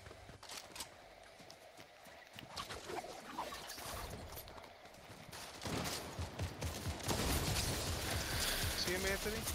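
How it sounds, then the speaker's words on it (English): Gunfire crackles in a Fortnite match as rapid bursts and scattered shots, building louder toward the end, mixed with game effects while players talk over it. "Someone's shooting us."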